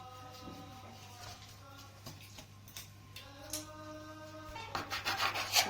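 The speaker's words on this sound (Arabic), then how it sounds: "انا دلوقتي بعجنها معاكم" Dough for Eid makhrouta is kneaded by hand in a home kitchen, with soft, close rubbing and pressing strokes over a steady low hum that grow more rhythmic and pronounced toward the end.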